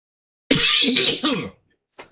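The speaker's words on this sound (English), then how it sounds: "I'm sorry about this cough, man." A rough, raspy cough that lasts about a second, followed by a short, quieter cough a moment later.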